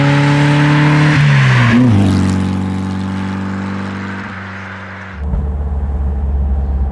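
Power-upgraded 1957 Porsche 356 Speedster engine heard from inside while driving, revving hard and climbing in pitch, then easing off as the car slows before the throttle opens again, loud and close.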